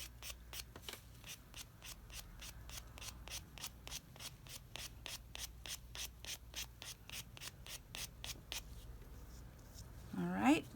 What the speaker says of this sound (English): Then I'm gonna use a buffer, and I'm gonna do the same thing.